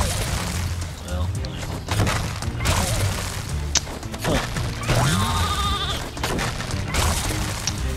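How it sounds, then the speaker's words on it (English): Sheep bleating in the video game Skylanders SWAP Force, a few short bleats mixed into busy game music, impacts and crashing effects, with a person talking over the action. "Well, the sheep was in the way, of course."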